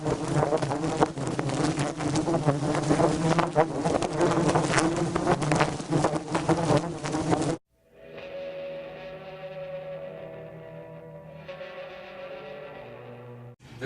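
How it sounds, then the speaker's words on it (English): Loud, dense buzzing of a swarm of tracker jacker wasps from the Hunger Games, droning steadily for about seven seconds, then cutting to a thinner, lower hum that carries on to the end. "But what makes these wasps so dangerous?"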